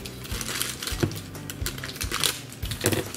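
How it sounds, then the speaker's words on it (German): Plastic packaging bag for a Funko Disney Treasures collectible being cut open with a black knife: close crinkling and scraping with small ticking, tearing noises scattered through a few seconds, no talking. "Es nützt alles nichts, ich muss die Tüte öffnen."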